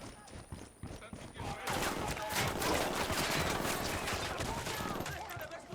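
Dense bursts of automatic gunfire rattle in a Ghost Recon Wildlands firefight, starting with scattered shots and building into a loud, sustained volley, while voices talk over it.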